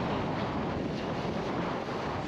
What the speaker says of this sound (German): Heute ist wieder ein bisschen Wind.